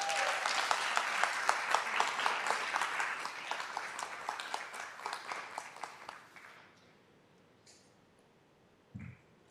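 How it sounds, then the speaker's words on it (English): A small audience at a school board meeting gives Mackenzie a round of applause. Close, quiet clapping with distinct individual claps runs for about six seconds, then thins out into a few scattered claps and a short thump. "Round of applause for Mackenzie."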